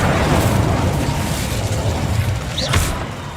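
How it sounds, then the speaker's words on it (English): An Incendio fire spell is cast in Hogwarts Legacy, a loud whooshing burst over steady rumbling combat noise, followed by a brief sharp zip near the end. "Protego! Incendio!"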